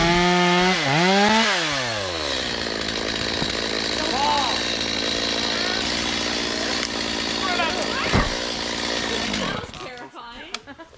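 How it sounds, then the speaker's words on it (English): Chainsaw cutting through wood outdoors in snow at a Newfoundland winter boil up, the engine revving and labouring steadily close by for about ten seconds before dropping off, with a sharp crack near the end. "some boil ups is a lot more fun with chainsaws"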